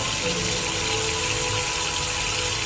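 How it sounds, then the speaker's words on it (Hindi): Steady rushing water pours continuously like a running tap in a hospital washroom, with a faint tonal hum underneath, loud and close throughout. "तभी उन्हें वॉशरूम से पानी बहने की आवाज़ आई।"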